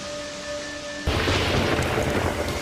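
A steady quiet hum gives way to a sudden loud burst of thunder from a violent thunderstorm, which rolls on as a dense, sustained rumble with a rain-like hiss, and no voices are heard.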